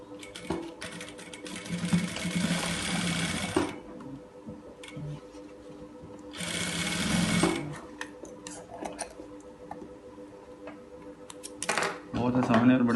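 An electric sewing machine stitching a shirt cuff in rapid whirring bursts, a long run, then a short one, then another start, with quieter gaps where a person talks.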